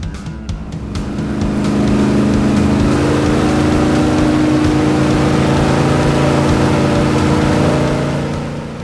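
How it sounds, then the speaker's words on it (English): A powerful airboat engine blasting wind at a clear retractable hurricane screen in Florida, rising from a quick start into a loud, sustained droning roar that holds steady and then tapers slightly at the end. "here in Florida, to test this, you get an airboat"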